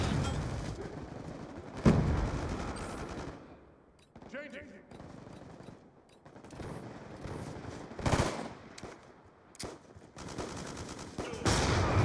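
Gunfire in the video game Black Ops 2, with bursts of automatic rifle fire and heavy shots crashing in several times, separated by quieter lulls, while voices call out over the fighting.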